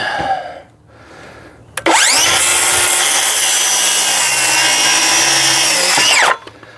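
A Craftsman 7 1/4 inch circular saw spins up and cuts through a board, a loud whining buzz sustained for about four seconds after a brief quiet start, then winding down at the end.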